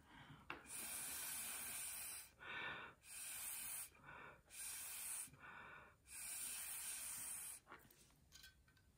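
Watery paint blown through a straw in a kids' still-life art project: five or six close, breathy hissing bursts, each about a second long, separated by short pauses, with no talking.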